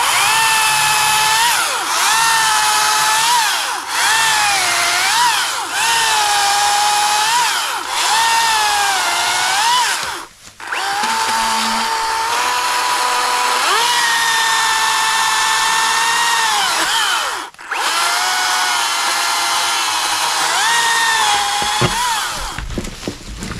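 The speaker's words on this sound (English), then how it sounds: "I can hear Al's chainsaw running in the distance and he just fell a tree." A chainsaw cuts a tree for firewood in the woods by a cabin, its engine whining steadily and rising and falling in pitch, with two brief dips where it eases off before revving on.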